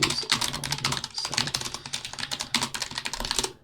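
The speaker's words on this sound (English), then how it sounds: "Sorry for the keyboard noise." Rapid keyboard typing, close and continuous, a dense clatter of key presses with no talking.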